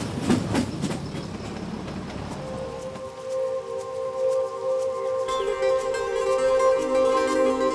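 A train in India during the monsoon season rumbles along the track with rhythmic clacking wheels, then a steady drone and faint metallic squeal as it rolls on.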